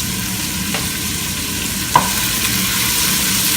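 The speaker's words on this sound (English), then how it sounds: "I'm going to just throw in the chilies just to let them fizzle with the" Chilies and peppers sizzle with onion in hot oil for a sweet potato and chickpea curry, a steady close frying hiss with a couple of light stirring clicks.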